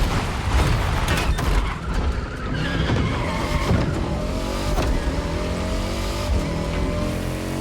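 A car in the racing game The Crew fitted with a swapped motorcycle engine, revving and accelerating hard through gear changes with tire squeal and skidding, loud and continuous.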